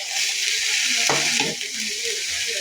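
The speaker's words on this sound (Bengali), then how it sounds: "এই উস্তাটা আমি 2টা আলু দিয়ে বেশি করে পেঁয়াজ দিয়ে ভাজি করব।" Bitter gourd fries with potatoes and plenty of onion in a pan, giving a steady close sizzle with a brief stirring scrape partway through, and no speech.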